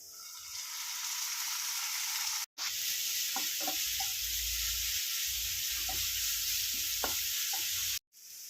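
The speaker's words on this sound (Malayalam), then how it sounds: "ഉള്ളിയും ക്യാരറ്റും എല്ലാം കൂടെ ഇനി നല്ലപോലെ ഒന്ന് വഴട്ടിയെടുക്കാം" Onion and carrot sauté in a pan with tomato puree, a steady close sizzle broken by brief pauses and scattered scraping stirs.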